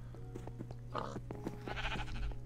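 Sheep bleat repeatedly in a Minecraft Skyblock world, several short blocky game bleats overlapping near the listener with steady background hum.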